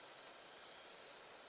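A cricket chirps outdoors at night on a farm pasture, a faint, steady high trill with slightly stronger pulses recurring, heard alone without any voices.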